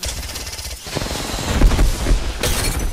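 An enemy's body shield cracks under sustained, loud gunfire in a shooter video game, with sharp shattering hits mixed into the rapid shots.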